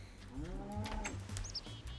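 A Minecraft cow gives a drawn-out low moo, fairly close, followed by a second shorter lowing call, with faint chirpy game sounds in the background.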